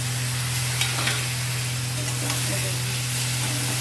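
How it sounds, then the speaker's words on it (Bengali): Boiled potatoes sauté and get stirred into spices fried in oil for a Bengali pea-lentil bada curry, giving a steady close sizzle with soft stirring scrapes over a low constant hum. "এবার আলুটা দিয়ে আমি একটু কষে নিচ্ছি।"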